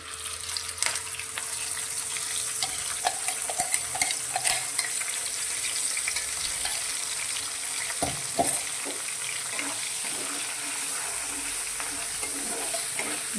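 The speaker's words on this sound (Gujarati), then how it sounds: "હવે આપણે જે ટામેટાં મરચાં અને લસણની પેસ્ટ તૈયાર કરી છે તેને આપણે તેલમાં લઈ લઈશું" Tomato, chilli and garlic paste sizzles steadily in oil over a low gas flame, with a spoon stirring and scraping against the pan now and then, close and continuous throughout.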